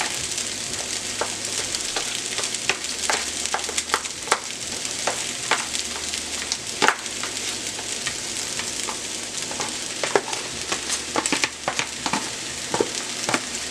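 Egg sizzles and fries in a hot wok for shrimp fried rice, with a steady loud crackle over the whole stretch and frequent sharp clicks of a utensil chopping and stirring against the metal.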